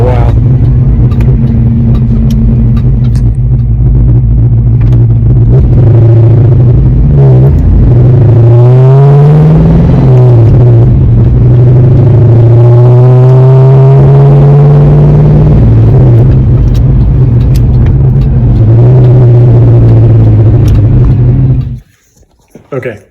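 A Fox Body Ford Mustang with a short throw shifter drives loudly, its engine droning and revving up through gears with rising pitch sweeps, close and dominant, before cutting off at the end.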